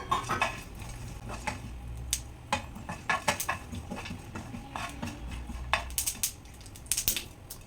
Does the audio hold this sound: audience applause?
no